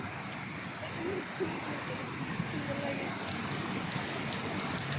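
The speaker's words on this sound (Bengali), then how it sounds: "ওই তুফান শুরু হয়েছে যে আল্লাহ দেখেন কিভাবে বৃষ্টি কিভাবে তুফান শুরু হয়েছে" Heavy rain during a storm in Abu Dhabi, a dense continuous hiss of downpour heard close and steady throughout, with faint voices in the background.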